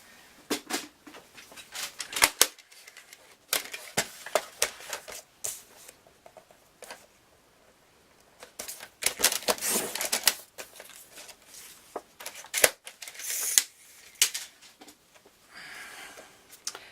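Paper being cut to size for a mini file folder, heard as close irregular bursts of crisp snipping and slicing with rustling between and quieter gaps.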